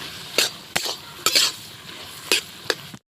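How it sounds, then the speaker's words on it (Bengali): Boiled snake gourd with coconut and shrimp being stirred in a pan, a handful of sharp scraping clinks from a utensil against the pot, spaced irregularly over a quiet background, close and alone without talk. "এখন নাড়াচাড়া দিয়ে দিচ্ছি"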